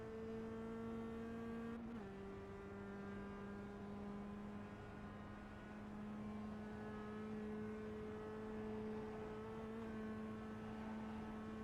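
A Mazda NC Miata race car engine on a hot lap at Virginia International Raceway, a steady, sustained in-car drone that dips with a brief gear change and then holds a constant high pitch, loud and continuous, with no talking.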